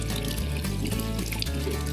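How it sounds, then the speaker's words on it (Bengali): Hot water poured into a pot of haleem in a Bengali cooking-show kitchen, a steady close splashing pour running continuously for a couple of seconds with no talk. "আর একটু জল লাগবে গরম জলটা আর একটু লাগবে"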